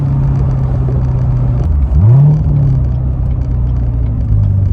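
Cabin rumble from a 470 hp Chevrolet Corvette C7 V8 as it accelerates: a loud, steady drone with a rising engine note as the revs climb.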